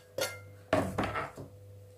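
A spoon clinks against a bowl while homemade gravlax sauce with dill and vinegar is stirred, giving a few sharp close taps followed by softer scraping knocks.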